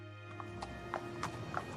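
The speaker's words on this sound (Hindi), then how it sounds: "संदेशवाहक घोड़े पर सवार होकर आश्रम की ओर तेज गति से रवाना होता है।" Clip-clop of a horse's hooves in a cartoon, a steady quick rhythm of moderate loudness with a brief whinny, set over a continuous music bed.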